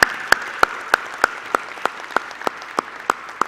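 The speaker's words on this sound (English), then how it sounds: "One more round of applause for them." Audience applause at an alumni convocation, steady clapping filling the hall at moderate distance with a few sharp louder claps standing out, no talk.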